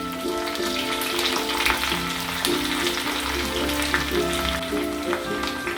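Small shallots and curry leaves fry in hot oil in a pan, giving a dense, continuous sizzle with crackles and pops. A low background hum runs underneath, and no one speaks.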